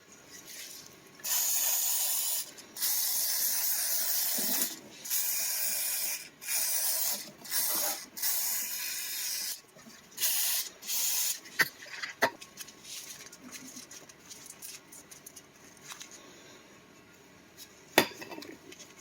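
WD-40 is sprayed into a part of a Polaris Magnum 500 ATV during a lube job, in a series of loud hissing bursts of one to two seconds each, followed by scattered clicks and small metallic knocks.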